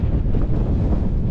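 Heavy wind roaring across the microphone on a rocky Scottish mountain ridge in winter, a constant low buffeting rumble, loud and close.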